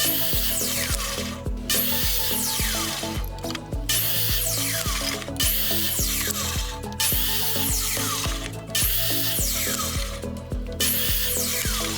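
Power drill drives screws into pallet wood in repeated bursts, each a whirring, rising grind that pauses briefly before the next, loud and close with no talking.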